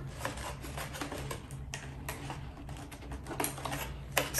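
Small scissors snip the rubber bands holding a Disney Alice in Wonderland doll to its box, a run of quick, faint clicks and snips close by over a low steady hum.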